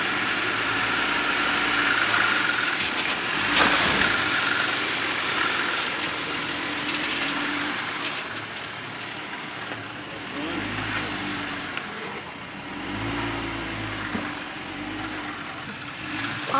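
A stock Jeep Gladiator Mojave crawling over rocks on the Seven Mile Rim trail in Moab, engine idling and low-revving steadily up close with scrapes and creaks as the rear tire climbs; people talk over it.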